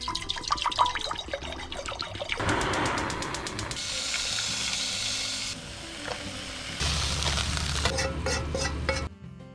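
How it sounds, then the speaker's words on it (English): Hot chili roasting lightly in a pan, giving a steady sizzle and frying hiss with stirring and scraping, joined partway by a lower rushing water sound and a few clatters, fairly close and continuous with no talking. "I had to roast the hot chili lightly, soak it in the hot water, and later making a puree out of it."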